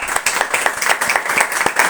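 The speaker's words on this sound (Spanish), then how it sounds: "un fuerte aplauso" A small audience at a book presentation claps briskly, a close, dense patter of hands lasting a couple of seconds with no talk over it.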